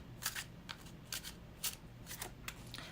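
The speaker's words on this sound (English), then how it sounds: "So let's start with your oracle cards first, and let's put them right there and shuffle with intention" Oracle cards shuffled by hand in a quiet room, a series of crisp riffling bursts at an uneven rhythm, close and fairly soft with no talking.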